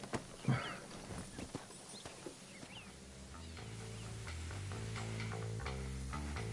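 Horses in the Western video game Red Dead Redemption clip-clop with scattered hoof hits and a brief whinny, then game music and ambience take over as the hooves fade under it.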